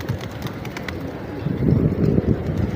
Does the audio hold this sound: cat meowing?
no